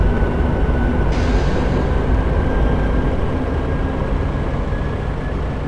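A PRR V2 mainline train on an express run accelerates, a broad continuous rumble with a faint steady whine, loud and unbroken throughout with no talk.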